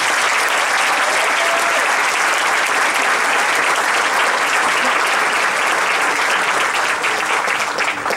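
Sustained, dense audience applause fills a graduation ceremony hall for about eight seconds, steady and loud from start to finish with a faint crowd murmur beneath.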